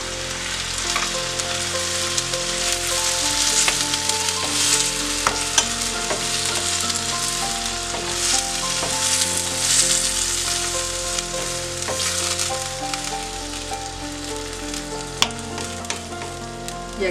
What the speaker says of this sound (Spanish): Y aquí sí lo dejamos un rato hasta que se fría bien el jitomate.